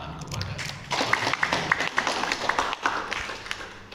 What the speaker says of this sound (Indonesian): Silakan berikan aplaus tepuk tangan kepada Bapak.